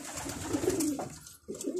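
Pigeons coo steadily at close range on a rooftop loft, with a low, continuous murmur through most of the stretch and a brief dip before it picks up again.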